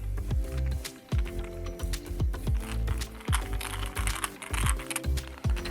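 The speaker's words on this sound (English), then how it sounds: "we've got your screw that screws it all together." A small screw is tightened by hand into the plastic lens parts of a welding helmet, giving close, repeated clicking and ratcheting taps in quick uneven bursts, with no talking.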